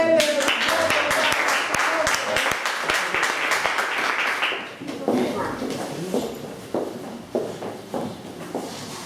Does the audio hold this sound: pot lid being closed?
no